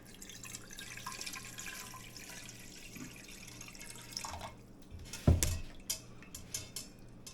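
Water running from a tap into a cooking pot of ribs, a faint steady trickle followed by a clattering of the pot and sharper splashes toward the end, close and quiet overall.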